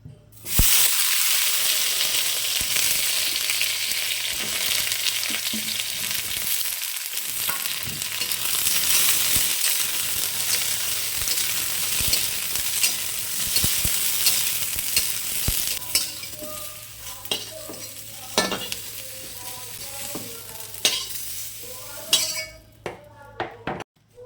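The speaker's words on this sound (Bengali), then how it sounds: "সব শেষে বেগুনগুলোকে ভেজে নেব" Eggplant pieces frying in oil in a karahi, a loud, dense sizzle that settles partway through into lighter crackling with clinks of a utensil against the pan, close up and without talk.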